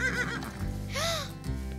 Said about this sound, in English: You got me a horse?